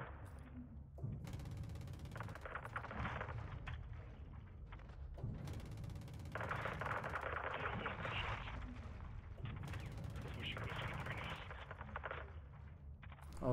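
Heavy, sustained AC-130 gunfire pounding and destroying a building in Call of Duty Modern Warfare 2, dense rumbling bursts and thuds rolling over each other at a steady, muffled loudness.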